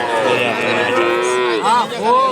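A cow lows at a livestock market in Shahrixon, Andijon, one long loud moo close by followed by two shorter rising calls, with no talk over it.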